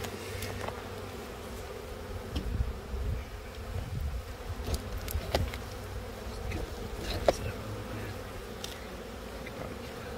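Honey bees buzz steadily around an open beehive, a continuous close drone with individual insects whizzing past the microphone now and then, fairly quiet overall.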